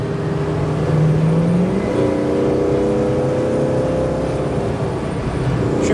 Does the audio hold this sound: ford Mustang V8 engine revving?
yes